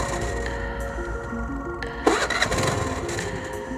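A KTM Duke 390 motorcycle engine cranks and catches in a sudden loud burst midway, runs roughly and unevenly for a moment, then falters as if about to die out, close to the microphone.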